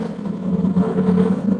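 Lamborghini Gr.3 race car in Gran Turismo on the Daytona circuit, a steady low engine drone that holds at a fairly constant pitch, moderately loud, with no voices.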